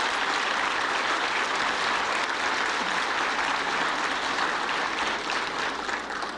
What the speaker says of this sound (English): Could we give them a special round of applause?